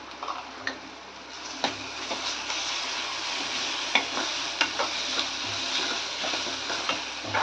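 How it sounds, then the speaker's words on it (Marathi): Ginger-garlic paste frying with onions in a pan, a steady soft sizzle with occasional spatula stirs and light ticks against the pan, close and continuous with no talking. "एक मिनिटभर तरी परतून घ्यायचं आहे"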